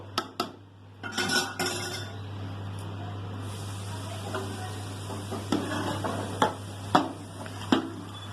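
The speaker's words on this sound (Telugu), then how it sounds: "మిగిలిన చికెన్ గ్రేవీ వేసేద్దాము." Chicken gravy goes into a biryani pot with metal clinks and scrapes of a spoon against the pot, a few sharp knocks standing out over a steady low hum and faint sizzle.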